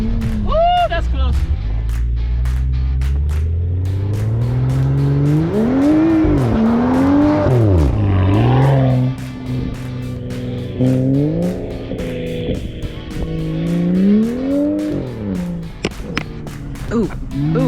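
A 600HP all-wheel-drive BMW drifts in snow, its engine revving and rising and falling in pitch through repeated slides, close and loud. Excited voices talk over it throughout.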